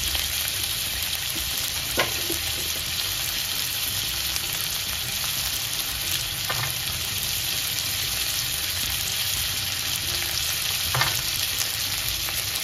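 Garlic frying in a pan for a Marathi paneer mushroom masala, a steady loud sizzle with occasional stirring clicks and scrapes, no talk over it.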